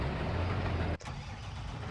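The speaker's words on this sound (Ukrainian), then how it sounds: "тракторець доїжджає" A tractor arriving in the Farming Simulator 23 game, a steady low engine rumble that briefly cuts out around the middle, then carries on idling and droning, no speech.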